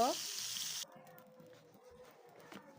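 Fish fries in hot oil in a pan with a strong burst of sizzle at the start, then a quieter, lighter crackle as the frying settles, heard close up without any talk.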